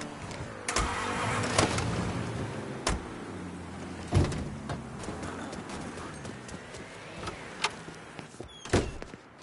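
Car engine in Mafia III turning over and idling while it warms up, with loud sharp knocks and clatter breaking through the steady low rumble.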